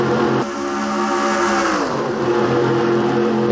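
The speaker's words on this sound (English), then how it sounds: "Hope you guys can hear the cars going by over my voice." Race cars roar past in a NASCAR-style Daytona 500 video game race, a dense, steady engine drone with a pitch shift as cars sweep by, loud and continuous.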